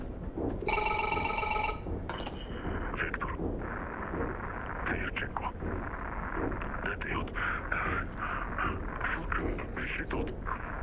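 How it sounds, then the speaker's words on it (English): A bright telephone ring bursts out briefly near the start in the video game MOLE, then fades into a rumbling game soundscape while a person talks. "Oh, it's a phone call."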